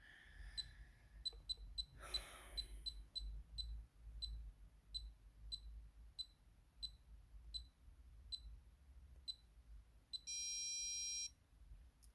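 Bosch 6000 alarm panel sounding a rejection tone after programming settings fail to save: a fast string of short high beeps followed by one longer steady buzz, close and clear over a low background rumble.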